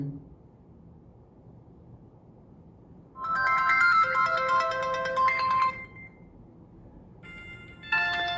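Ringtone played loudly through the single speaker of a Tecno Pova Neo phone: a bright melodic tune runs for about three seconds over a quiet room hum, and a second short burst of the tune begins near the end.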